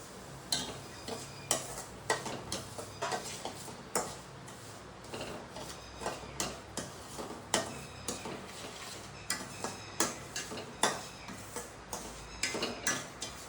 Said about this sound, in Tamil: இப்போ என்ன பண்ணுறேன்னா ரவையை வறுத்தரலாம்